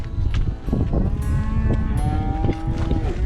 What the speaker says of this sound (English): after the cows get done eating, they moo